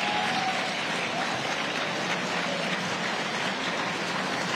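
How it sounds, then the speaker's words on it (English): Audience at a masterclass event on Sir Lynden Pindling's life and legacy gives a round of applause, a dense, hissing wash of many hands that is fairly distant and soft, steady throughout. "Let us give the Pindlings a round of applause."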